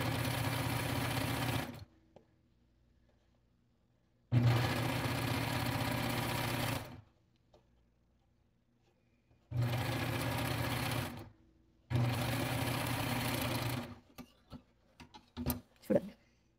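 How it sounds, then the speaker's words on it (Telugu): Sewing machine stitching the lining of a silk work blouse, running in four steady bursts of about two seconds each separated by pauses, close and loud, followed by a few faint handling clicks at the end. "ఈ కరెక్ట్ పార్ట్ లోపలికి పెట్టేసి రివర్స్‌లో అయితే స్టిచ్ చేస్తున్నాను."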